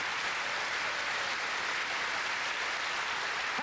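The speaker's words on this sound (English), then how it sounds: "Nice round of applause for Helen Brannan and for Mick Durkin." A game show's studio audience claps for two contestants, producing a steady wash of applause that holds evenly throughout at moderate loudness, with no talk over it.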